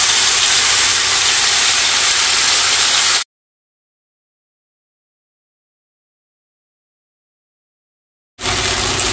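Ground paste sizzles as it is sautéed in a pan: a loud, steady hiss and crackle that cuts to complete silence for about five seconds, then resumes just as strongly.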